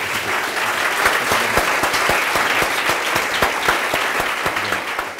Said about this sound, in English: put your hands together, give Phil a fantastic round of applause.